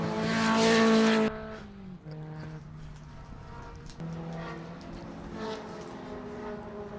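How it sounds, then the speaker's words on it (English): Rover-engined Formula Sheane race cars roar past on the back straight, a loud sustained engine drone with harmonic whine that peaks early, then settles into a steady, more distant rumble as the cars pull away. "the familiar sound of the Rover engines as they head down the back there"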